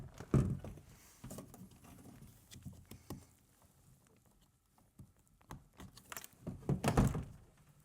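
Removing the door panel of a Toyota 4Runner gives a series of scattered thunks, taps and plastic clip pops, close by and irregular, with quiet handling sounds between them.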